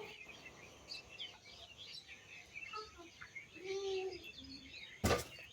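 Birds chirp in trees, with scattered short tweets and calls at a distance over faint rustling outdoor ambience, ending with a sharp sudden knock.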